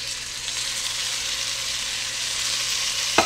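Garlic sizzling and frying steadily in a hot pan, a continuous crackling hiss that holds even throughout with a small clink near the end.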